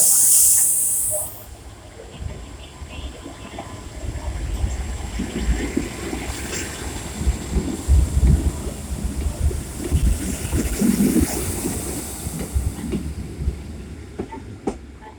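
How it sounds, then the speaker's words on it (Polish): A two-car diesel passenger railcar engine starts up and runs, a steady low rumble with hiss and faint clatter continuing throughout, fairly close and without talk. "Więc zaraz pan odpali wszystkie konie mechaniczne i Mustangi zawarte w jego silniku."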